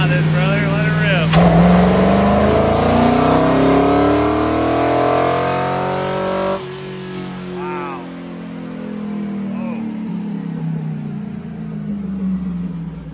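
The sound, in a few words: naturally aspirated car engine revving on nitro fuel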